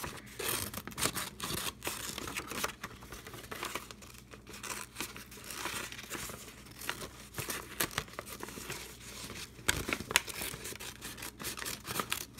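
Scissors snip and crinkle through paper card while cutting around a traced hand outline for a homemade greeting card, a steady run of close, dense crisp cuts and rustling with no talk.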